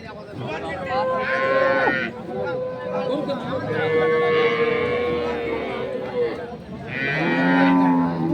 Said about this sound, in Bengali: দুধের গরু এখানেও আছে